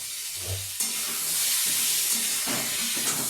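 Pumpkin slices frying in a pan over a medium gas flame, with a loud, continuous close sizzle and hiss broken by a few soft clicks and knocks, no one talking.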